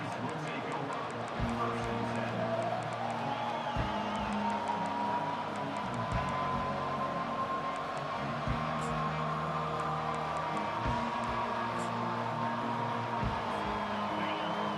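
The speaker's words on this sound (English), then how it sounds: "This crowd bringing an ear-splitting welcome to their visitors." A stadium crowd in EA Sports College Football 25 roars steadily throughout, a loud continuous wash of cheering under a commentator talking over the game.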